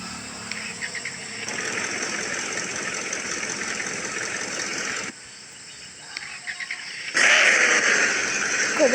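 A car engine in a car-dealer video game turns over and settles into a steady idle, with a loud droning hum that cuts out briefly and then returns stronger, no speech.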